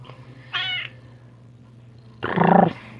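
A person imitates a cat with two meows, a short one and then a louder drawn-out one, separated by a brief quiet gap over low background hum.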